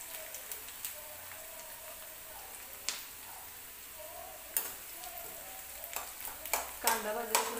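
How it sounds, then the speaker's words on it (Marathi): Onion fries in a pan for a chicken recipe, with a soft continuous sizzle broken by sharp scraping clinks of a spoon stirring, growing busier toward the end; quiet, close, with no talking. "कांदा भाजायला थोडंसं अजून 2-3 मिनिटात कांदा भाजून जाईल।"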